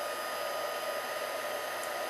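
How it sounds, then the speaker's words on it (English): A heat tool blows steadily and close up while heat-setting embossing powder on a painted card, a continuous even whoosh with no talking. "So now I'm going to go ahead and heat set that."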